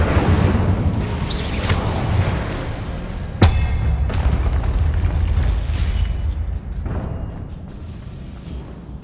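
Fire spell cast in the Hogwarts Legacy video game, a sharp burst followed by a rumbling, booming whoosh and a few later flares over a steady game ambience.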